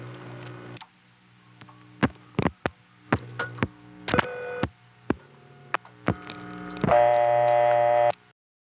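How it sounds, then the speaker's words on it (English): Electrical line noise from an older telephone ringback circuit with a low hum, interrupted by a series of sharp clicks and pops, then a louder buzzing tone near the end. "Those older ringback circuits tend to make noise almost all the time."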